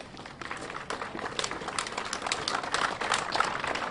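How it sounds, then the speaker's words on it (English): Biloxi Police Department officers give a round of applause at a press announcement, the clapping starting after a short pause and swelling into steady, moderately loud applause. "there you are seeing a round of applause now from the Biloxi Police Department"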